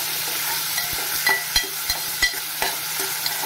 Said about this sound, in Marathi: कांदा अगदी चांगला लालसर गुलाबी होईपर्यंत आपल्याला भाजून घ्यायचं आहे